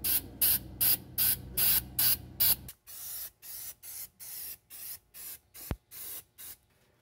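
Spray paint hisses onto the undercarriage of a Cushman Truckster in about a dozen short, evenly spaced close bursts, louder at first, then slightly softer.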